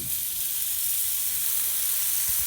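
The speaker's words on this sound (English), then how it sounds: "Sizzle, sizzle, sizzle, griddle, griddle, griddle." Steady, crackling sizzle of bacon frying on a hot griddle, a constant bright hiss with occasional pops, close by.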